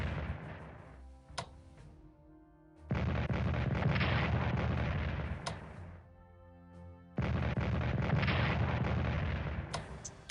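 Heavy artillery fires in a Pacific war strategy game during the Battle of Okinawa, with two long, loud barrages of booming blasts separated by quieter rumbling stretches and a few sharp isolated reports.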